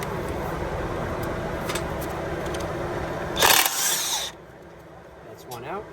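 A tool removes the 17 mm brake caliper bracket bolts on an Acura TSX, and a short loud mechanical burst rattles out in the middle over steady background noise, with a person talking briefly after.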